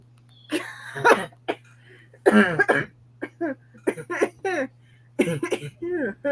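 Several sharp coughs burst out between stretches of conversation, close and loud, with people talking around them.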